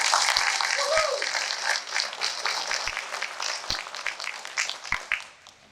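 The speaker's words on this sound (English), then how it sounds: "let's give them another round of applause" Sustained applause from a crowd at a fire rescue recruit school graduation ceremony, dense clapping filling the whole stretch with a few louder claps standing out, gradually thinning at the end.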